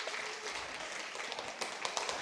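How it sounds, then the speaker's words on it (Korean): Soft, distant applause from a church congregation, a continuous faint wash of many hands clapping, with a few sharper claps near the end. "박수 해주시기 바랍니다"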